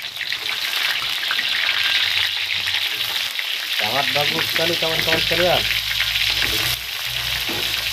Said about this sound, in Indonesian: Ini dia tempenya, kita masukkan, kita gorengkan.